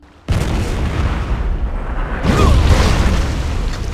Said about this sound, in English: Then bandits attack with cannons.